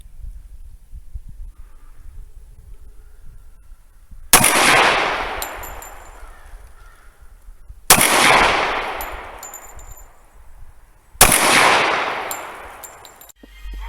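Three loud, widely spaced shots from a Para 1911 .45 ACP pistol firing dirty Winchester ammunition, each a sharp crack with a long ringing tail echoing outdoors, separated by quiet pauses of several seconds.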